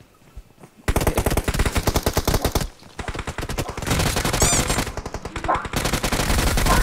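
Rapid bursts of automatic gunfire from a shooter video game, loud and close, in several sustained volleys with a brief pause near the middle.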